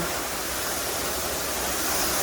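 The Alongkorn waterfall in Sangkha, Surin, flowing in the forest makes a steady, even rush of falling water, broad and hissing, unbroken throughout with no voices.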